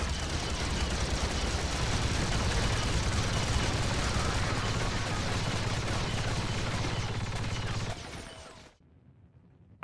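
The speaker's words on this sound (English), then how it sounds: "The Z6 support trooper is equipped with a Z6 heavy rotary cannon." A Z6 heavy rotary cannon fires in a Star Wars game mod, a loud continuous roar of rapid gunfire lasting about eight seconds before cutting off abruptly into near silence.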